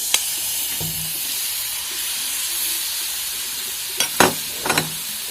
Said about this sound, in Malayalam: നമ്മൾ ഈ ചിക്കൻ ഇതിലേക്ക് ആഡ് ചെയ്ത് കൊടുക്കുകയാണ്